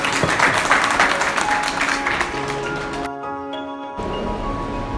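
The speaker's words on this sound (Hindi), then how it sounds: "ताली हो जाएगी।" An audience at a school felicitation ceremony applauds in a dense burst of clapping that thins out and stops after about three seconds, leaving a quiet room.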